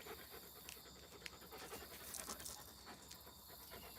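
A dog pants quietly nearby in a home setting, rapid soft breaths repeating over low background noise with occasional faint clicks and no speech.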